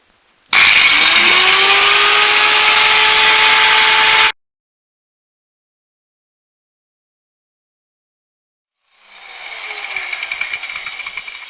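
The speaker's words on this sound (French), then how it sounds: "si ma meuleuse veut bien démarrer" Angle grinder cutting through a rivet on a motorcycle drive chain, a loud steady high-pitched whine with a falling pitch for about four seconds, then silence, then a fainter restart as the grinder spins up again.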